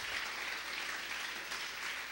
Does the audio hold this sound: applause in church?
yes